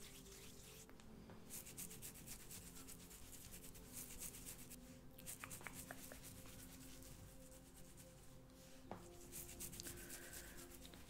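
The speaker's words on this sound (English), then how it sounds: "Let me just get some on my fingers and rub that in." Soft, close rubbing as fingers work a thick, treacle-like hair product into hair at an ASMR salon, a steady faint scratchy friction with occasional crisp strands rustling.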